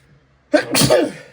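A single loud, close human sneeze, a sharp burst after near silence that trails off quickly.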